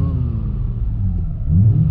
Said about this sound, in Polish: Ten wydech chyba trochę jest za głośny